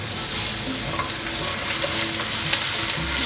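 Lotus root and carrots stir-fry in hot oil in a wok, a loud continuous sizzle with scraping and tossing of the spatula throughout, close and unbroken.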